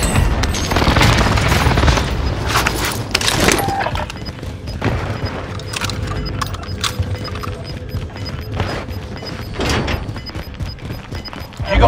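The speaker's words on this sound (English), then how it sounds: "Enemy precision airstrike." A precision airstrike in the Warzone shooter on Rebirth Island lands as a run of heavy booming blasts and scattered gunfire-like impacts. The explosions are loud at the start and then thin into distant thumps, with bursts returning later.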